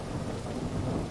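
Steady rain hisses down with a low rumble of thunder beneath it in the survival video game No One Survived, in a brief, dense wash of sound.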